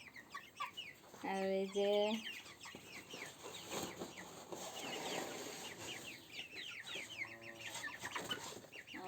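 Broiler chickens cluck and call in irregular bursts, fairly close, with someone speaking briefly among them.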